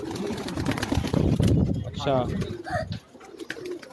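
Domestic pigeons coo on a rooftop loft in New Rizvia Society, Karachi, their soft throaty calls partly buried under close, continuous conversation between men.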